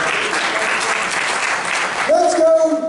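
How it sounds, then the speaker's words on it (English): A church congregation claps together as a praise offering, a loud, dense wash of applause that gives way to a person speaking near the end. "Give the Lord a praise and clap offering."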